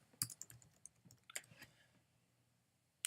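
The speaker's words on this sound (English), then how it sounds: "let's go ahead and type the word projects" A word being typed on a computer keyboard, a quick burst of soft separate key clicks over about two seconds, close and quiet, then near silence.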